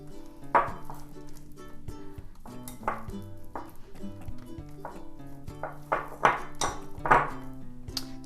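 Spatula scraping down a mixing bowl of homemade foot butter, a run of clinking, tapping knocks against the bowl at an irregular pace, close and fairly quiet.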